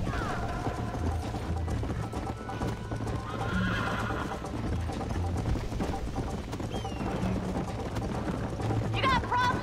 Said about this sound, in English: Which really does show how fast this horse is.